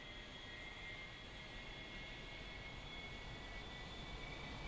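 A-4E jet engine spooling up at military power before takeoff in a flight simulator game, heard as a steady, loud, broadband roar with a high whine, continuous throughout with no talking.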